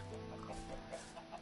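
Chickens cluck softly and steadily in Minecraft, several faint, quick clucks overlapping against a low ambient game background with no talking.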